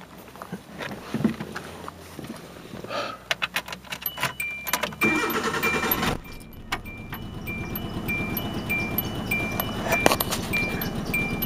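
A repaired car being started: keys jangle and rattle in the ignition, then the engine cranks and catches, settling into a steady close idle with a thin whine over it.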